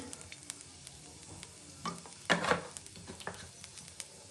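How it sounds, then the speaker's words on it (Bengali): A small amount of oil heats in a wok after potatoes have been fried, giving a faint steady sizzle and crackle with a few louder spits and pops midway. "এখন কড়াইতে আমি আর অল্প তেল দিয়ে দিচ্ছি"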